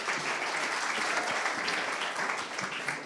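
An audience at a sales leaders awards event claps for a guest called to the stage, a dense, even round of applause filling the whole moment without speech on top.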